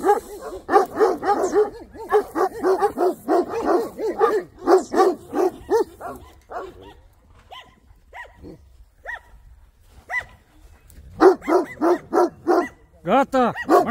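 A large Romanian shepherd dog barks loudly and repeatedly in a rapid, deep series, pauses briefly with a few scattered quieter yips, then resumes a strong burst of barking; people talk nearby.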